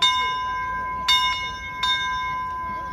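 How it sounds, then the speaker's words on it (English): Bell of a small 0-4-0 steam locomotive at a train show in Springfield, Massachusetts, three bright clangs spaced about a second apart ringing over a low background, with a voice nearby. "Oh boy, you hear the bell."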